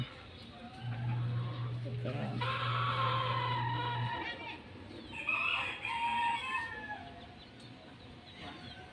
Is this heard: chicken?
yes